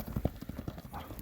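A horse's hooves clip-clop as it runs, giving quick, fairly faint beats against low background noise over a brief moment.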